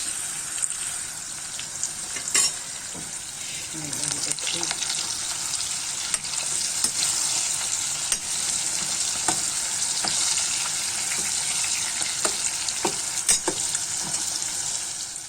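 Steady loud sizzling of peppers frying in a pan, with a few stirring clicks and scrapes throughout.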